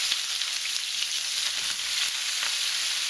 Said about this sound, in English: Our pan is hot, so I'm going to add my cabbage